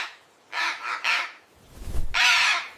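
A cartoon parrot in a children's alphabet lesson squawks in several loud, harsh bursts, two short calls close together, then a low thump and a longer final squawk, standing alone without talk.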